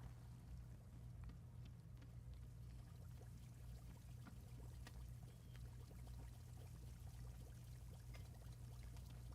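Tea pours into a mug in a soft, continuous stream lasting several seconds, faint and close with no talking over it.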